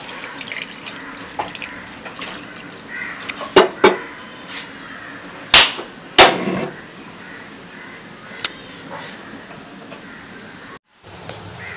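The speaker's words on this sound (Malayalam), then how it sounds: "അപ്പൊ ഇനി ഇതിലേക്ക് നമുക്ക് ആവശ്യത്തിന് വെള്ളം കൂടി ഒഴിച്ചിട്ട് ഇതൊന്ന് നമുക്ക് നല്ലപോലെ ഒന്ന് വേവിച്ചെടുക്കാം." Water is poured into a pot of eel fish curry, with several splashy bursts and a few metallic pot clanks over a quiet kitchen background and a brief silent gap near the end.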